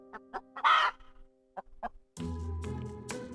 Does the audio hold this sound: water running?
no